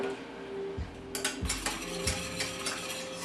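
Broth being whisked into a country gravy for chicken fried steak: continuous close metallic whisk scraping and rattling in a pan, growing busier after the first second, with no voices.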